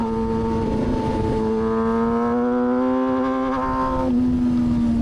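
A Kawasaki ZX-6R sport bike on a race track engine note held at high, steady revs, tones shifting as it downshifts into third, loud and close with constant wind rush.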